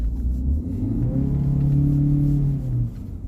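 A 2020 Ford Fusion Hybrid's engine rising into a steady, droning rumble as the throttle is pressed, heard from inside the car with a gradual pitch climb and then a slight easing off, no talking.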